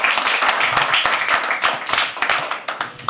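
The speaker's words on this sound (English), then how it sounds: "Everyone else, can you please clap for them?" Audience clapping at a live poetry open mic, a run of scattered, uneven hand claps close by with faint murmuring underneath.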